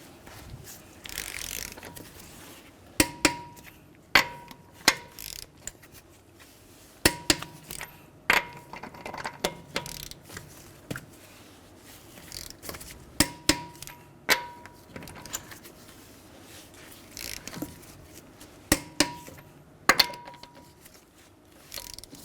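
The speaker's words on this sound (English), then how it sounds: "we're going to torque our lug nuts to 94 foot-pounds in a crisscross pattern" Torque wrench ratcheting as lug nuts on a Honda Odyssey are tightened to 94 foot-pounds in a crisscross pattern: repeated bursts of clicking with sharp snaps as each nut reaches torque, close and fairly quiet, with no talking.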